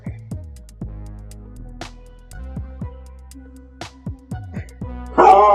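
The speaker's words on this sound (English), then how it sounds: "She just barked right underneath my chair." A small dog under a chair barks repeatedly in short sharp yips, irregularly spaced and close by, ending in a louder, more ragged burst.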